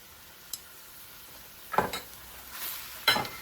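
Spinach is stirred into a pan of cooking tomatoes: a soft sizzle runs underneath while two or three short scraping, rustling strokes rise above it.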